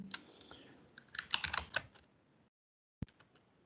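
Computer keyboard clatter while an email address is typed, a flurry of key presses, then a brief silence and a few more taps, close-up with no talk.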